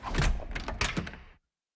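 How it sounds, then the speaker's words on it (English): A door opening in the video game The Hundred Line: a short burst of thumping and sliding noise lasting just over a second, loud and close, then cutting to silence. "The door opened and Ato walked in."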